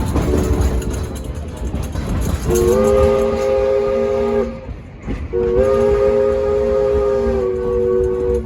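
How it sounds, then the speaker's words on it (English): Baldwin steam locomotive No. 40 of the Nevada Northern hauling a train, with a steady rumble of running gear and two long, loud whistle blasts separated by a brief pause. "Now the locomotive hurrying the train today is Baldwin Steam Locomotive number 40."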